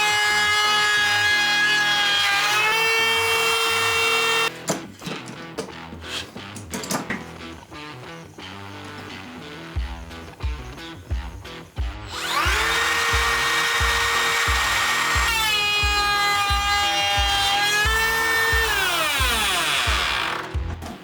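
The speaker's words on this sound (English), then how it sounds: "So now when I run the router down this, it should give me my 9mm groove" A wood router whines loudly at high speed while cutting a 9mm groove in a board for a pigeon-hole storage unit, the pitch dropping under load, pausing, then spinning up again with a steady motor hum.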